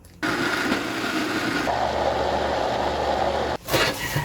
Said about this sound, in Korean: 이제 믹서기에 갈아만 주면 돼요